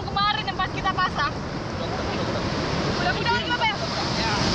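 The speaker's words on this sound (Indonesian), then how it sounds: "ternyata memang hari ini masih berombak" Sea waves wash along the coast of Aceh in a continuous rough surf hiss, with bursts of talking over it.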